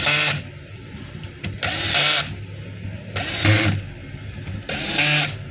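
A repaired DeWalt DWD024 half-inch hammer drill run in four short bursts, each spinning up with a loud rattling hammer action then stopping, with a gap between runs.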